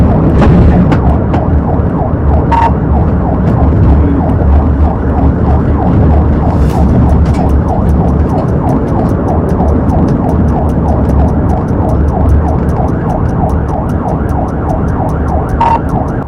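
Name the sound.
police car sirens wailing during chase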